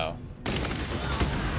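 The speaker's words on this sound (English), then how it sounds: "the turrets all shoot exploding arrows" Turrets in the video game Path of Exile fire exploding arrows, producing a dense, continuous barrage of crackling blasts that starts abruptly after a brief quiet moment and stays loud throughout.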